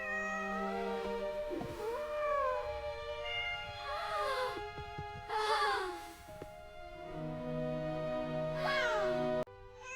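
A small kitten meows repeatedly in several drawn-out, rising and falling cries, close and fairly loud, over a steady background of soft music.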